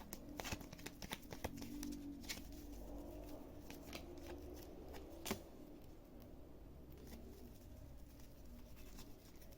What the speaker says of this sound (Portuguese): Deixa eu tirar mais cartas aqui pra gente entender.